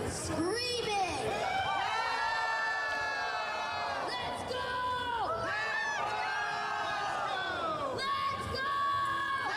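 A live crowd at a bare knuckle fight show screams, whoops and cheers loudly and continuously, with voices shouting over the roar.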